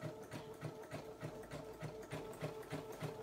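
A sewing machine stitches applique with a rapid, even mechanical chatter of needle strokes. The run is continuous and fairly quiet, with no voices.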